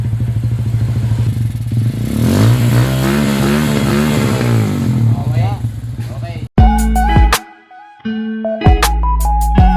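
Motorcycle engine misfiring after a fresh carburetor cleaning, loud and close, revving unevenly with stuttering pulses, then cutting out briefly before sputtering back in choppy bursts.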